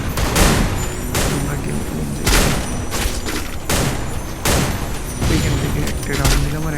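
Sniper and rifle gunfire in a mobile shooter video game, several loud sharp shots and bursts repeating roughly every second against a dense game background.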